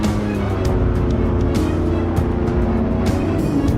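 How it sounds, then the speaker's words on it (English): A buggy's engine roars loudly and continuously while crossing open grassland on a wild boar hunt, a close, sustained growl with no talking over it. "Our buggy roared across the open fields, the engine's growl"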